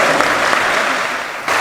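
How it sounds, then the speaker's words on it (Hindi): A crowd at a religious discourse gathering with Bageshwar Dham's Dhirendra Shastri claps loudly and densely, steady throughout with a brief surge near the end. "आप सभी लोग जोरदार तालियां बजाकर आप अभिनंदन और स्वागत करें"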